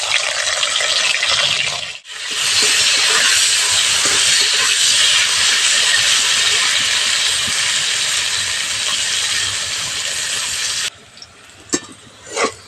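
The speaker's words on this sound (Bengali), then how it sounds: "উচ্ছেগুলো ভেজে নিচ্ছি।" Bitter gourd pieces frying in hot mustard oil in a kadai, a loud, steady hiss lasting about eleven seconds before it drops away to quieter clinks.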